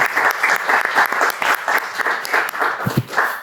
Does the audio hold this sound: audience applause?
yes